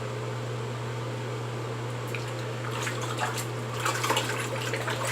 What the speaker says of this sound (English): Let that brush soak and rinse.